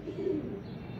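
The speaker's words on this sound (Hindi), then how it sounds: "कमाल का चीना कबूतर है" A Cheena pigeon gives a short, soft, low coo, close by and quiet against faint background noise.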